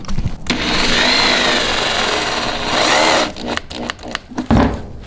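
A power tool drives a screw into an ACS composite rock protection panel fitted under a C8 Corvette, a steady loud whir for about three seconds, then a few short bursts and stops with scattered clatter.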